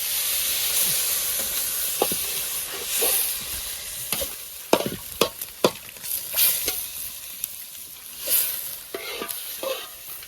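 A spoon scrapes and stirs through a coconut ladoo mixture of coconut, milk and sugar in a pan, with repeated sharp scrapes over a constant bubbling sizzle. The strokes are close, uneven in rhythm, and no one speaks.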